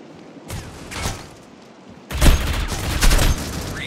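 Planted bomb detonating in the mobile shooter Critical Ops, a burst of loud, booming blasts with a rattling tail, following a couple of quieter gunshot-like pops, no talking.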